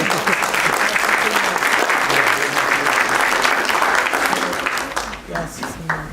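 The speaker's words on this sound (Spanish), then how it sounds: "Puedes aplaudir a ese Señor" A church congregation breaks into sustained, loud applause that fills the space, steady and dense for several seconds before thinning out, with voices mixed in throughout.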